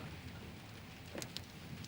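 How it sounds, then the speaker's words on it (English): Rain falls steadily outdoors in a garden, a soft continuous hiss with a few sharper drip-like ticks near the end, faint and with no one talking. "But it's raining, sir."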